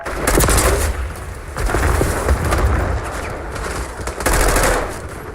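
Dense, close gunfire in a first-person shooter game: rapid automatic bursts and heavy blasts overlapping almost without pause, loud and continuous, with no voices heard.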